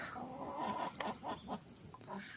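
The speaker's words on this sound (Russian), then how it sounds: "Бедные мои курочки." Hens clucking softly at a distance in a mountain village in Turkey, a scattered run of short clucks over a steady outdoor background.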